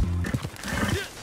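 A horse in the video game Red Dead Online lets out a short, loud neigh with a rising then falling whinny, heard up close over light background game sound.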